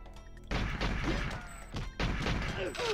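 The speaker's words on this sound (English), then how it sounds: "My little PPK, powerful little pistol. Take him out." Walther PPK pistol shots in the GoldenEye 007 video game, a series of sharp loud bursts in two clusters, with game sounds between them and no talk.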